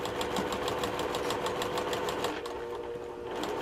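A sewing machine stitches a quilt block at slow speed, giving a close, steady rapid needle clatter with a mechanical motor whir that eases slightly near the end.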